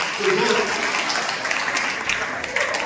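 An audience at a musical antakshari contest claps in a steady, continuous wash, with voices faintly mixed in throughout.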